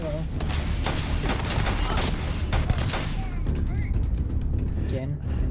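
Gunfire from shooting in the Starfield video game, a dense, steady run of rapid shots and impacts that continues throughout at a loud level, with game effects mixed in.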